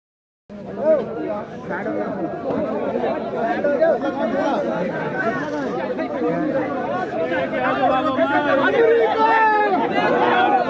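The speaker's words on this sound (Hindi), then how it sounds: "विरोध किया जा रहा है और साथ ही नारेबाजी यहाँ पर हमें देखने के लिए मिल रही है" Protest crowd chanting slogans against Trump and Netanyahu amid Iran–US war tensions while burning effigies; a dense, continuous mass of loud voices shouting together, sustained and close throughout.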